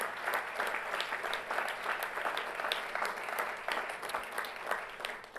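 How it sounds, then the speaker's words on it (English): Audience applause at a governing board meeting as representatives come forward, steady dense clapping filling the room without pause, moderately loud and fairly close. "Come on up and we'll applaud them as well."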